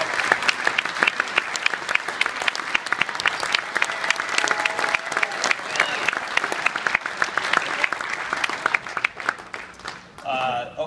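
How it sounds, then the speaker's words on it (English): Sustained audience applause at an awards evening, a dense rattle of many hands clapping continuously, fairly near, before tapering off at the end. "Give her another round of applause, everybody."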